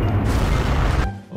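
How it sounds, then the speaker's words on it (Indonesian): A loud, close explosion in the Skibidi Toilet animated series, a single heavy boom with rumbling debris that holds for about a second before cutting off sharply. "Oh, meledak, guys."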